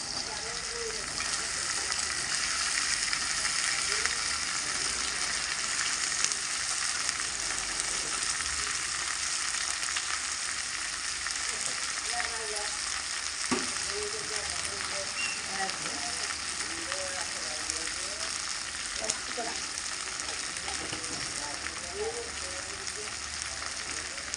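Okra dropped into hot oil with onions in a pan, giving a loud, continuous, close sizzle and crackle with occasional small pops, steady throughout.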